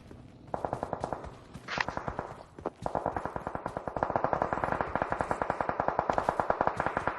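Rapid automatic gunfire in PUBG Mobile during a team match played on an iPhone 14 Pro: loud, close bursts of evenly spaced shots that continue steadily after one brief pause.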